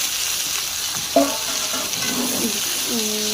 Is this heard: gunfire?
no